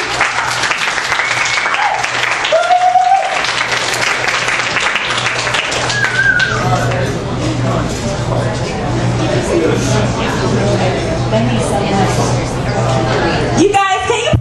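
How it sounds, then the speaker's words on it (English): Sustained applause fills a jazz club after a poetry reading, with dense clapping mixed with crowd chatter and a few whoops, all held at a steady level. "can you please give him another round of applause for me?"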